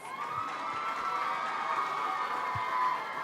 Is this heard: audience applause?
yes